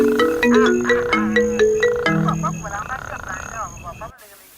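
A telephone ringtone in a French-language radio drama plays a bright, stepping melodic tune that repeats several times up close before cutting off, with no one speaking over it.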